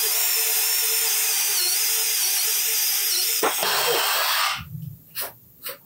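A DOLIZ BD 636 12V cordless drill with a used bit bores through material, a loud high-pitched steady whine that stops abruptly near the end, followed by a few short breathy bursts and quiet.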